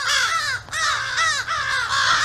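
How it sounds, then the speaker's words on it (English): A group of crows caws loudly and nearby, a quick run of harsh, repeated calls with only brief breaks between them. "I got a bunch of crows that just moved in and"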